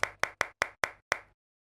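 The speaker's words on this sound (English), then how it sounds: "Got this clap," Six dry, punchy clap hits from a sample in music production software, played alone in an evenly spaced pattern with one slightly longer gap before the last hit, each with a short bright decay.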